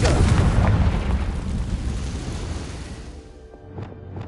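Confringo fire spell explosion in Hogwarts Legacy: a heavy, booming burst that rumbles and decays over a few seconds, followed by a couple of small crackling pops near the end.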